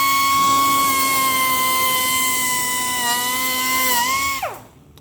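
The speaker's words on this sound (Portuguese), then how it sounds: "peguei um chicotinho, um disco de lixa" A sanding disc on a small rotary tool grinds out a hole in a Fiat Palio bumper for a fog light, a loud steady high whine that dips slightly under load, then winds down at the end.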